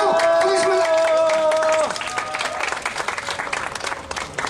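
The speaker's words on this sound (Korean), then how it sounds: "힘찬 박수 하겠습니다" A crowd applauds at an outdoor labor press conference celebrating a union victory and welcoming a rooftop sit-in protester; sustained, lively clapping follows a brief held musical tone, loud and close.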